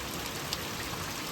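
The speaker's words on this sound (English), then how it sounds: "rain is still falling pretty heavily too" Heavy thunderstorm rain pours down as a dense, even hiss on the street, steady and close throughout the short stretch with a faint patter of individual drops and no voices.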